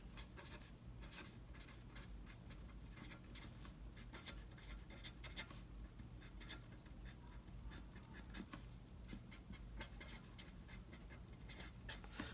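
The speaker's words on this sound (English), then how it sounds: "So let me write that out." Pen or marker writing by hand, the tip scratching and tapping in quick, irregular strokes, close and steady with no talking.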